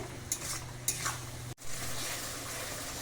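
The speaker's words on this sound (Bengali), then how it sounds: "মশলা খুব ভালো করে কষিয়ে নেব" Spice paste for red mutton curry is stirred and fried in a pan, giving a soft, continuous sizzle with a few light scrapes and one brief break, fairly quiet and close.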